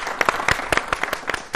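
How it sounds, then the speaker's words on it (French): Studio audience at a weekend TV talk show applauding, a loose patter of individual sharp hand claps from a modest crowd, uneven and fairly close. "Est-ce qu'on peut applaudir comme au quartier s'il vous plaît?"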